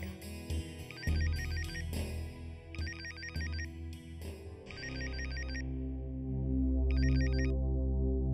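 A telephone rings in repeated short electronic bursts, separated by pauses, over a steady bed of dramatic background music in a Hindi television drama scene.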